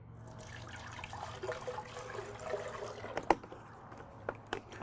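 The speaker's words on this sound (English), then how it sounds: "So I'm going to start by adding a little bit of water to this." Water pours into a blender jar ahead of berries and broccoli for a detox smoothie, a soft steady trickle and splash running for several seconds with a few sharper clinks near the end.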